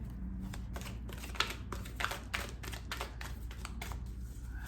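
Tarot cards are shuffled in rapid, soft riffling clicks and flutters, close and fairly quiet over a low background hum.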